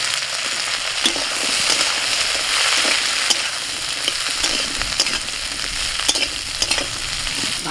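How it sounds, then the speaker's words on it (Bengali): Vegetables for khichuri, such as yardlong beans, peas, pumpkin and carrot, fry in hot oil with a loud, steady sizzle, and a spoon scrapes and stirs the pan with sharp clicks throughout. "এবার একে একে খিচুড়ির সবজিগুলো ভেজে নেব।"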